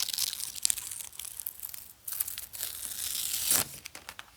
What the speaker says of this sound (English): I haven't even taken the sticker off yet, so let's do that.